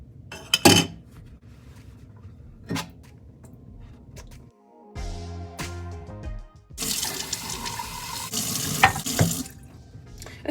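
A cup is washed by hand in a home kitchen sink: clinks of crockery and cutlery, a burst of running tap water, then a louder stretch of water splashing and dishes knocking, no talking.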